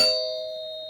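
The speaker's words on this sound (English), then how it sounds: "And the doorbell rang." A doorbell in a home kitchen gives a single clear electronic ding that rings out and slowly fades, loud and close, with nothing else around it.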